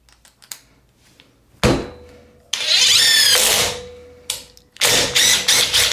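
A DeWalt XR 20-volt brushless cordless impact driver runs at speed 2, driving small screws in several short bursts, from a brief whir to a longer, loud hammering rattle, with quiet gaps and clicks between runs.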